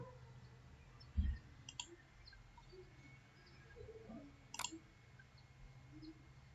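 Computer mouse clicks while working in AutoCAD, two or three faint, sharp clicks spread across a quiet room background with no talk.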